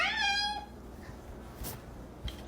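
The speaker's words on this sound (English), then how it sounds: "Some cats sound like this." A cat gives one clear, drawn-out meow at the very start, loud and close. Quieter outdoor background sounds follow, with a few soft knocks.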